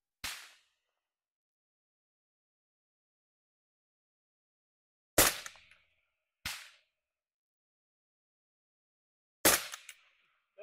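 Four sharp precision rifle shots fired at long-range targets, separated by long silent gaps, each a loud crack with a short decaying echo, the last two closer together.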